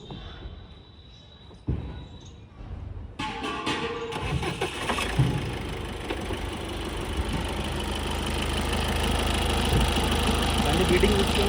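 A 2015 Ford EcoSport diesel engine cranks and catches partway through, then settles into a steady, loud idle that rumbles on close by to the end.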